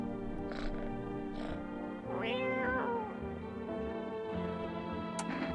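In a horror video game, a person's voice imitates a cat, giving several drawn-out meows of varying pitch over a steady background drone.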